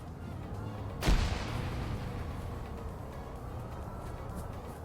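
A rocket launcher fires in the military game Arma 3, making one sharp, loud boom near the one-second mark that trails into a long, fading rumble over steady ambient noise.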